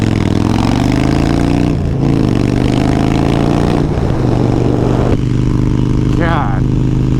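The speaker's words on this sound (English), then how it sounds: "God, hate Orlando traffic" Orlando street traffic roars close by as a vehicle engine revs and drones steadily for several seconds, with shifting pitch as it accelerates, loud and continuous.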